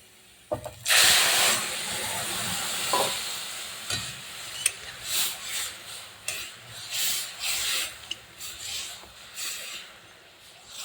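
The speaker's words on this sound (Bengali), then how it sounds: "দেখুন আমার পেঁয়াজ লাল হয়ে গেছে, এবার আমি ডাল দিয়ে দেবো।" Masoor lentils are tipped into red-fried onions in a hot pan with panch phoron, giving a loud burst of steamy hiss followed by softer sizzling and intermittent scraping of stirring, close up.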